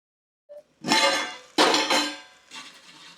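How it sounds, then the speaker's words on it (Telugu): A metal lid knocks onto a pressure cooker pot of chicken pulao, giving a short tap followed by two loud clattering clanks and a fainter rattle as it settles, up close. "ఫస్ట్ మూత పెట్టి ఉడికించుకుందాం."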